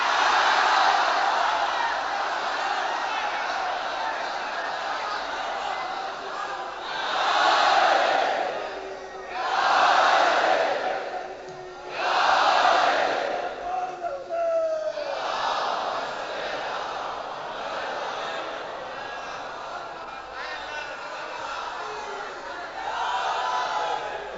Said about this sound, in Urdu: یہ نعرے مجھے یاد رہیں گے